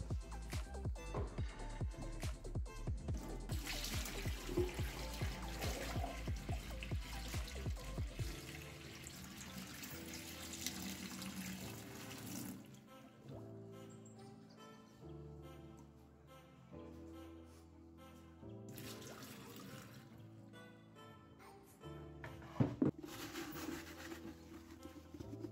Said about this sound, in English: you can go ahead and pour out the water